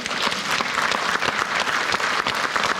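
A studio audience at a televised panel Q&A breaks into dense, sustained applause, loud and close throughout with no pause.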